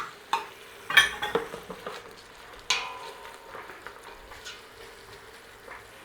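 Onions and garlic cooking in a pan for a marinara sauce, with a soft sizzle broken by a few sharp stirring scrapes and clacks of a utensil against the pan, close and moderately quiet, no talking.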